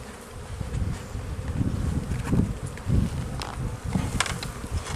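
Buckfast honeybees buzzing busily around an active hive, a dense continuous drone close by with bees flying past, rising and falling in loudness, no voices.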